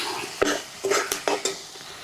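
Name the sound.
frying and stirring spice mix with salt, chili, turmeric, tomato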